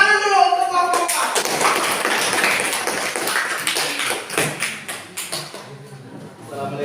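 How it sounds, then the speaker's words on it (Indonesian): A class claps for group 4 in a classroom: a dense patter of hand claps from many pupils that thins into a few separate claps toward the end, with children's voices mixed in. "Iya, tepuk tangan dulu untuk kelompok 4."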